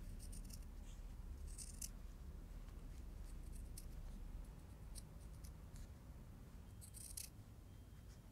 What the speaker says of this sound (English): clip your threads and then trim your seam from a quarter of an inch down to an eighth of an inch all the way around